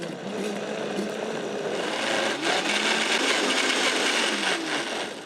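A blender blitzes a sweetened vanilla snack, giving a steady, loud, close whirring grind that runs unbroken for several seconds and tapers slightly at the end, with no voices.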